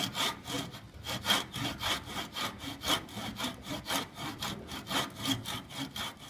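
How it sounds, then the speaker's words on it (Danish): A fine-toothed hand saw cuts through wood in steady back-and-forth strokes, each pass a bright rasping burst in an even rhythm, close and moderately loud with no talk. "og så går du bare i gang med at save."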